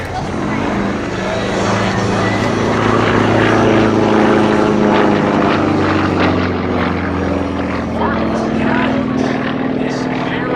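A Sukhoi SU-31 aerobatic propeller plane performs at the MCAS Cherry Point air show, its engine droning and swelling in a loud pass as the pitch shifts. An announcer talks over it.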